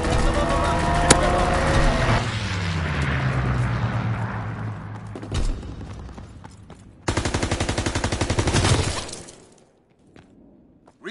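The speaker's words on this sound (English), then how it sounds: "Call for a strafing run. Strafing run inbound." Video game strafing run delivering a long, loud burst of rapid automatic fire, preceded by a fading aircraft rumble and scattered impacts, then cutting off abruptly to near silence.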